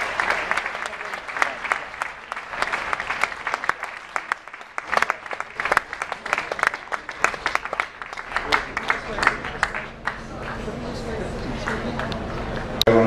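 Audience applause at a fundraising dinner in New York City, with loud, irregular clapping and sharp individual claps close by, thinning toward the end as talk and room noise take over.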